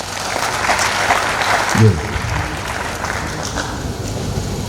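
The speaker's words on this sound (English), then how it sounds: "I think we need to clap for him." An audience claps for a professor after his inaugural lecture, a broad wash of applause mixed with a microphone voice and a brief spoken word.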